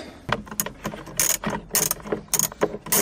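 A ratchet wrench loosens a long van battery bolt in quick bursts of sharp, close metallic clicks, separated by short pauses, with no talking.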